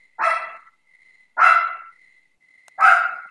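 Chihuahuas barking in the video game Ripened Tingle's Balloon Trip of Love: three loud, close bark bursts at regular intervals, with a thin steady tone between them and no talking.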